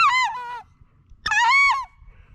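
A wood duck call blown on a DC call gives two loud, close, rising squealing whistles separated by a brief pause.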